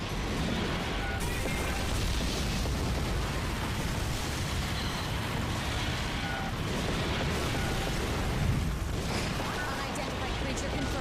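Godzilla smashing buildings in the PS4 Godzilla video game: a dense, steady roar of crashing and crumbling debris with rumbling impacts that continue unbroken, with voices faintly present in the mix.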